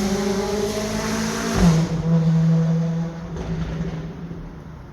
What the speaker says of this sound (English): for a fancy car, that didn't sound very good at all